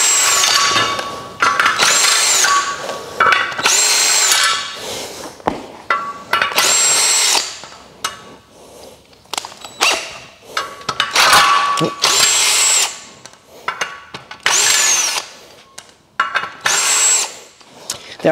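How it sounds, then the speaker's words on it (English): A power tool loosens the screws on a Turbosawmill automated sawmill, giving repeated loud bursts of whirring and buzzing, each a second or two long, split by short pauses and rattling handling noises. "So we'll just loosen off all the little"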